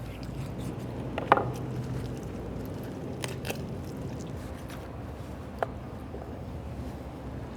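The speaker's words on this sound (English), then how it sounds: "Find that joint and run your knife through there." A knife works through the leg joint of a juicy beer can turkey, giving faint wet squishes and a few sharp cutting crackles, mostly quiet and close, with no talk.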